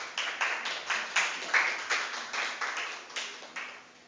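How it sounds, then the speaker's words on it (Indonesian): A school audience claps in a ceremony for a prospective teacher-leader in Semarang, Indonesia: a steady run of sharp, evenly spaced hand claps from a modest crowd, moderately close and with no voices over it. "Beri tepuk tangan."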